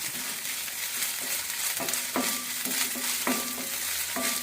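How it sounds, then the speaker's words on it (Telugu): Ginger garlic paste fries in hot oil for poha, under a continuous sizzle broken by regular scraping strokes of a spoon stirring the pan, close and clear with no voices. "ఈ అల్లం ఎల్లిపాయ పేస్ట్ వేద్దాం వేసి మంచిగా కొంచెం పచ్చివాసన పోయే వరకు ఇలాగా కలిగి పెడుతూ ఉందాము"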